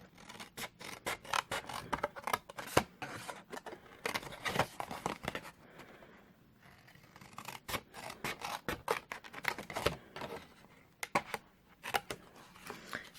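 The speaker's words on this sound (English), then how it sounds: "my scissors are stuck" Scissors snip through paper for a craft box, close and crisp, in quick rhythmic bursts of cuts separated by short pauses, with light rustling of paper between.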